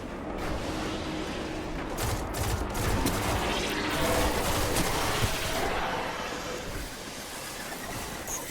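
Sustained gunfire in the Destiny: Rise of Iron Plaguelands area, a dense continuous volley of rapid shots and bursts at moderate distance, steady and loud throughout with no speech.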